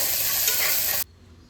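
Onions sizzling and being stirred in a hot pan for Mangalorean kaltappa, a bright crackling hiss that cuts off abruptly partway through, leaving a quiet low hum.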